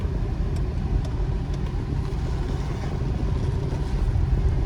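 A 2002 Subaru Forester AWD L accelerating smoothly, its engine a steady, even mid-pitched hum with road noise underneath, close and continuous without voices.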